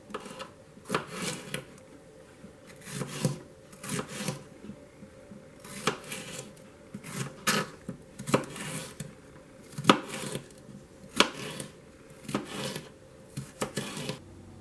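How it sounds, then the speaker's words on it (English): A knife cuts bell peppers lengthwise on a board in a home kitchen, giving a steady run of crisp, evenly spaced chops at close range with no talk. "You want to take your peppers and you want to cut them long ways, lengthwise."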